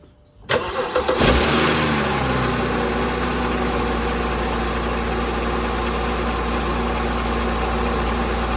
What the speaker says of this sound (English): Now we're gonna go ahead and start the car.